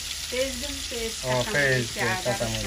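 Cooking oil sizzles in a hot pan, a bright crackling hiss running beneath a person talking throughout.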